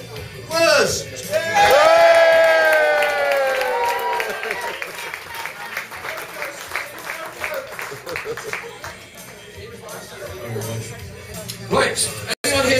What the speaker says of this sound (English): A massive round of applause for your host, Wes.